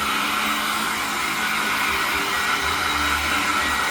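A hair dryer blows continuously at close range over an acrylic-painted canvas, a loud, steady whooshing hum with no pauses.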